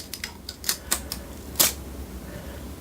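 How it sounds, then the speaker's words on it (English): Protective tape peeled off an HP printer ink cartridge in a series of short, sharp crackling rips, close up, with one louder tearing burst near the middle and scattered smaller clicks around it. "Remove the tape"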